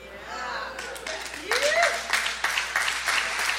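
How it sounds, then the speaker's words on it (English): An audience breaks into clapping after a brief spoken line, scattered claps building into moderate applause in a room, with a voice heard near the start. "So it was good you clap for her anyway."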